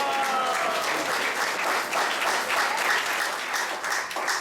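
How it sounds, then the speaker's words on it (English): Audience applause for a family at a Sunday class in an ISKCON temple in Atlanta, a steady, dense wash of clapping from a crowd sustained throughout, moderately loud with no voices. "So let's give a round of applause for this wonderful family."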